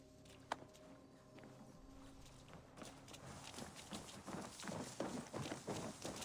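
A horse sets off at a gallop in Assassin's Creed Valhalla, hooves thudding faintly at first and then growing into a steady, louder rhythm over the open ground.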